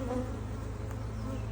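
Honey bees drone in a continuous, dense buzz at a Flow Hive in early summer, close and steady, with no talking.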